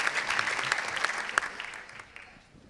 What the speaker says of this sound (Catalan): Bon aplaudiment.